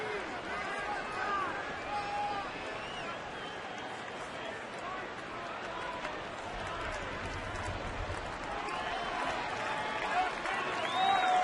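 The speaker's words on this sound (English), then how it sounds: "An anxious crowd here at Miller Park." Crowd murmur fills a baseball stadium at Miller Park during a tense full count, a steady broad rumble of many voices with scattered shouts and whistles, holding constant at moderate distance throughout.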